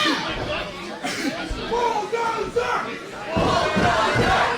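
Wrestling crowd at a match between Matt Tremont and Rickey Shane Page, chanting and cheering continuously with massed voices, swelling louder toward the end, with a commentator talking over it.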